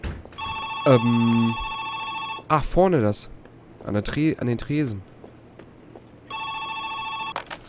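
A telephone bell rings loudly in bursts inside the Joe's Diner video game, stopping while someone talks excitedly over game noises, then starting again near the end.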